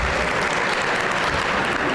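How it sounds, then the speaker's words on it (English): At a music education advocacy press conference, an audience applauds children, and the brief, loud burst of clapping stays even and continuous throughout. "So let's hear some great applause to the kids behind us."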